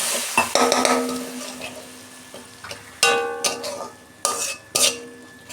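Onion frying with chilli powder and turmeric crackles as water is added, followed by sharp metallic spatula strikes and scrapes against the pan in an irregular series of loud stirs.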